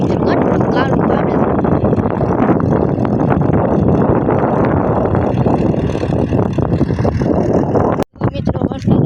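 A tractor drives through a rain-soaked, muddy farm field, its engine producing a loud, unbroken low rumble up close, mixed with wind noise and a brief dropout near the end.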